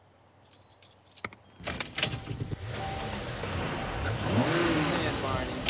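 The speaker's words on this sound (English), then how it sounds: "Bring me the keys." Car keys jangle loudly up close for a couple of seconds, then a car engine starts and hums steadily, with a short voice briefly heard over the engine.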